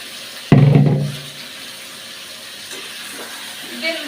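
Potatoes dropped into a hot pan in a rural home kitchen set off a sudden loud sizzle that fades into a steady softer hiss, close by, with faint background noises.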